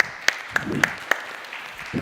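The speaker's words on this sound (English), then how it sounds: "give him a big applause" A startup pitch competition audience gives a few sharp, evenly spaced hand claps, close and distinct over a low hum of room noise, with a faint murmur near the end.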